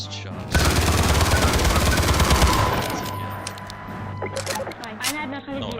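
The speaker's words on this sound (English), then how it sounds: "We get to hear the glorious shots." Gunfire in the shooter game Killzone, with a dense burst of rapid automatic shots followed by scattered sharper reports and voices talking through it.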